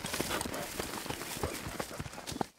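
Cavalry horse hooves clip-clop in a quick, steady rhythm across open Montana battlefield ground, close and fairly loud, ending abruptly.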